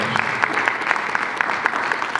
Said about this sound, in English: Round of applause for all the monologues.